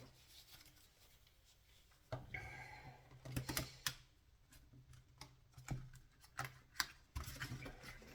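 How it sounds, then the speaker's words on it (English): Large Healing Waters Oracle cards being shuffled by hand: soft papery riffles and taps come in bursts with pauses between, close and quiet, with no talking. "The easiest cards in the world to shuffle."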